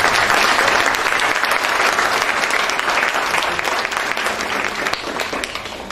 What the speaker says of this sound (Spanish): Y le vamos a brindar un aplauso por eso.